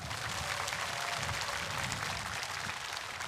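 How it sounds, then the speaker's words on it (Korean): Audience applauding four diplomats at a large Buddhist ceremony for national peace and world peace, a steady dense wash of clapping held throughout, fairly quiet and distant, with no voices over it. "the people gathered here conveyed their heart through their warm clapping"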